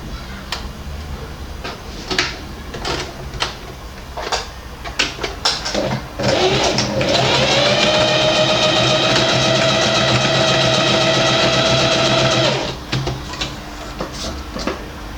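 Household sewing machine running a zigzag stitch on fabric: a steady whirring hum of about six seconds, preceded and followed by scattered clicks and handling knocks.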